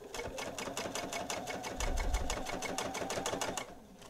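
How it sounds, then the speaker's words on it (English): A sewing machine stitches the sides of a fabric microwave potato bag and closes the turning opening, a steady rapid needle clatter running for about three and a half seconds before stopping. "So now I'm sewing up the sides and closing up that opening that I left at the same time."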